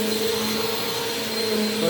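A Bissell PowerForce Compact Turbo upright vacuum running on dirty carpet, a loud, steady motor whine and airflow roar held without a break for the whole short stretch.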